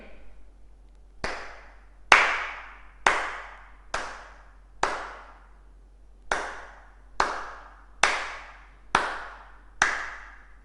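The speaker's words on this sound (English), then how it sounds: "And this is me clapping." A steady run of eleven single hand claps, crisp and close with short tails, in a room fitted with acoustic foam panels; no voices.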